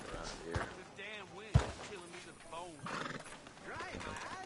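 A horse in the Red Dead Redemption 2 video game neighs and snorts among continuous character dialogue, with a sharp thump partway through and a louder whinny near the end.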